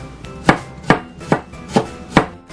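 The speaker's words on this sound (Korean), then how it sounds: "양파를 잘 녹아들도록 가늘게 썰어줄게요." A kitchen knife thinly slicing an onion for stir-fried sweet potato stems, five evenly spaced crisp chops against a cutting board, close and clear with no talking.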